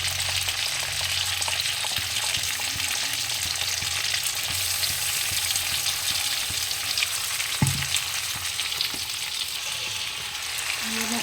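Chicken pieces frying in a pan as spices go in, a steady loud sizzle with occasional stirring knocks, close and continuous, with no talking.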